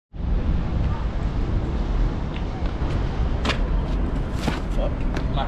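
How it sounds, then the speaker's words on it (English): Strong gusting wind buffets the microphone outdoors at a parkour training spot in Clapham Junction, a steady loud roar that holds for the whole stretch with a few brief knocks and scrapes on top. "Oh, now the wind."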